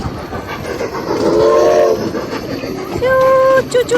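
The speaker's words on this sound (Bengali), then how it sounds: "একদিন ইনশাল্লাহ এই ট্রেনে আমি উঠবো" A passing train sounds loud and close, its rumble and clatter joined by two drawn-out horn blasts, one in the middle and a higher, sharper one near the end.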